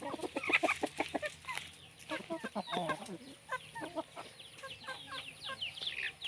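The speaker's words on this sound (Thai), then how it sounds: "ไก่ก็เตรียมตัวเข้าคอกนะคะ" Several chickens cluck and chatter in quick bursts as they go into their coop in the evening, close and busy, with a faint background hum and brief voices mixed in.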